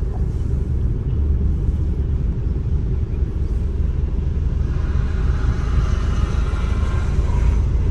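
Car engine pulling steadily in fourth gear during a driving lesson, a continuous low rumble with road noise that holds even throughout, no voices.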